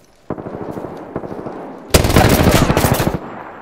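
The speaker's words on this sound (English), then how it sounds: "Opening fire on the enemy." Rapid automatic gunfire in a shooter video game, a short burst followed by a longer, louder sustained volley of close, rattling shots with no talk.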